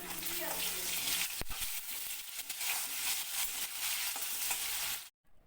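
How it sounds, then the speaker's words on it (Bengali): Potatoes sizzle and crackle steadily in hot oil, with a sharp clatter early on before it cuts to silence at the end. "আলুগুলো লাল করে ভাজা হয়ে গেছে"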